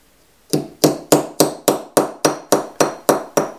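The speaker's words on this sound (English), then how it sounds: "And you can actually feel how much harder this light hammering has made the copper" A hammer strikes copper sheet lightly ten times in an even, unhurried rhythm, each blow a sharp close metallic tap with a short ringing decay.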